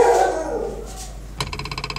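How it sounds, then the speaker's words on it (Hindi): A dog howls briefly, then a quick series of rhythmic barks or yips follows near the end, close and fairly loud. "कुत्ता"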